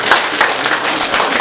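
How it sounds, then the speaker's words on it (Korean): A church congregation at a Palm Sunday service applauds together, a brief burst of dense, steady clapping from many hands filling the sanctuary. "주님께 영광의 박수를 드리면서 앞에 있는 분들을 응원하는 마음으로 함께 축복의 박수를 전하겠습니다"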